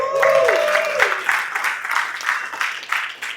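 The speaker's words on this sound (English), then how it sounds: "Everybody give Susan a round of applause." A short burst of applause from a small group, clapping rising then thinning out, with a brief voice at the start.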